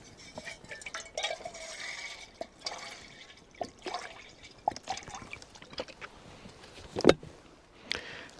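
Water, 200 millilitres, is poured and trickles into a hiking stove pot in irregular splashes and drips, close by, with a louder splash near the end.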